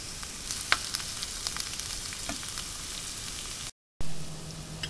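Green and red bell peppers with chopped tomatoes sizzle steadily in a frying pan, a continuous close crackle with small pops, cut by a brief gap near the end before the frying resumes with a low hum.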